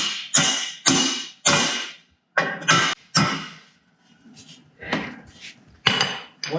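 A hammer taps pins into an LED ground support truss, giving a series of sharp, bright metallic strikes, some single and some in quick pairs, close up and loud with short gaps between them.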